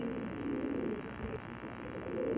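Pigeons held for sale in Lahore give low, rolling coos close by against a steady background hum, with only faint traces of voice.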